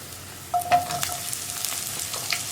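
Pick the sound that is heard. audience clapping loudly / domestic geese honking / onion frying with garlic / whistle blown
onion frying with garlic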